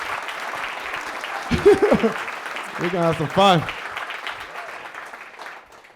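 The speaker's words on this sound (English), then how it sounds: "So give yourself a round of applause one time." A comedy special crowd applauding and cheering continuously, while a performer talks briefly over the noise.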